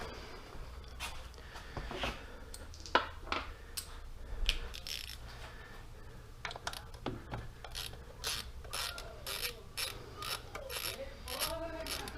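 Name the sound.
10mm socket ratchet removing bolt on Hellcat engine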